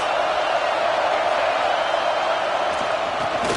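Steady stadium crowd roar in a Madden football video game, a dense continuous wash of cheering with no breaks, fairly loud throughout.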